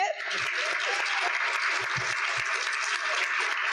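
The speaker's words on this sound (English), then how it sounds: "All right, one more applause before we get started." An audience at an annual luncheon symposium applauds, a dense, steady wash of many hands clapping at an even level throughout, with a few faint low thumps underneath.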